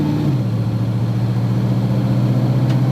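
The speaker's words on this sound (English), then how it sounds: "Push the gas pedal about a quarter throttle to feel the 1," A car with a General Motors 200-4R automatic transmission accelerates at about quarter throttle, the engine note holding steady then dropping as the gearbox upshifts, loud and close with no talk.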